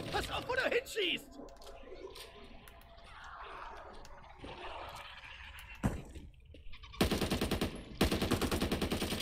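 Rapid automatic gunfire from a weapon in the Back 4 Blood zombie shooter, sharp repeated bursts building toward the end, loud and close, mixed with voices and game effects earlier on.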